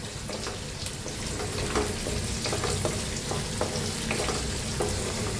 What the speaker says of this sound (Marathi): कढीपत्ता, शेंगदाणे, कांदा हलवून भाजून घेऊया